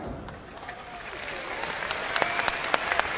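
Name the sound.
audience applause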